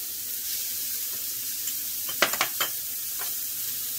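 Zucchini noodles with pesto sizzle gently in a hot pan, a steady hiss broken midway by a quick cluster of scraping, tossing sounds before settling back to the low sizzle.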